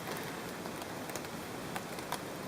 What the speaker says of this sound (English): And the rain bloody on again.